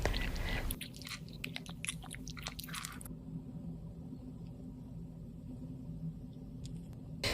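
Close crunchy bites and chewing of crispy potato hawawshi stuffed with minced meat and cheese, with a sharp bite at the start and a burst of crackly crunches before steadier chewing under a constant background hiss.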